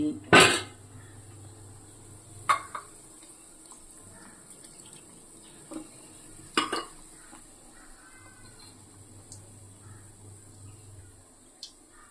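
Medu vada, lentil fritters for a pongal and sambar breakfast, frying in a home kitchen: a steady, moderate oil hiss runs throughout, broken by a few sharp clanks of a ladle or pan and soft stirring scrapes, with no talking.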